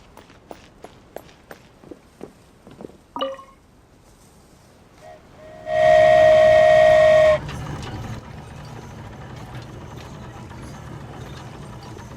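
A train in the video game Genshin Impact departs with a single loud, steady whistle blast of about one and a half seconds, following a run of footstep-like clops and followed by a low rumbling hum.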